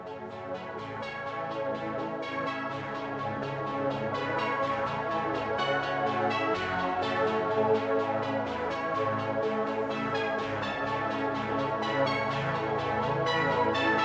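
A synth pad plays sustained chords layered with piano, a steady, full musical texture with no voices.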